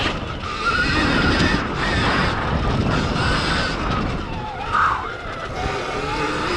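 Stark Varg EX electric dirt bike riding offroad through woods, a continuous loud whine and rushing noise of the motor, wind and terrain with surges and a brief high squeal, no clear talk over it.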